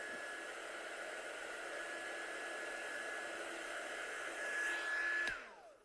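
A small heat dryer blowing over freshly stamped ink on a handmade card, a steady close whooshing hum that holds for several seconds, swells slightly, then winds down as it is switched off.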